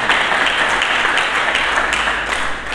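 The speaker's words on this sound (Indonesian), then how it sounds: "Mari kita berikan tepuk tangan bagi Yesus Kristus." A church congregation gives a dense, continuous round of applause for Jesus Christ, loud and sustained with no break.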